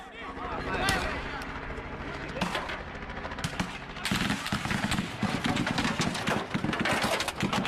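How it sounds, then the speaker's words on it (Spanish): Sustained bursts of rapid automatic gunfire crackle continuously over a dense, noisy background, growing denser and louder in the second half. "9 segundos de disparos continuos de armas automáticas"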